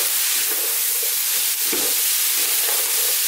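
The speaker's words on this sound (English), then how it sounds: "let's stir this around just a little bit." A wooden spoon stirs chunky potatoes and kale through a pot of vegetable soup, giving a steady soft hiss and bubbling with a few gentle scrapes and no talk.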